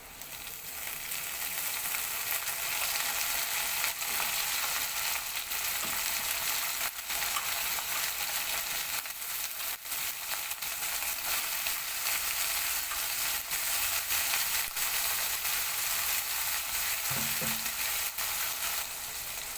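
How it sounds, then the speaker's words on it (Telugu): Cut eggplant pieces frying in a pan with onions and garlic, a loud continuous hiss and crackle of hot oil lasting throughout, with a brief clink of a utensil near the end. "ఇప్పుడు కట్ చేసి పెట్టుకున్న వంకాయలు వేసిద్దాం"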